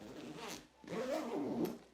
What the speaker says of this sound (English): They are USA YKK zippers, so that makes them very smooth.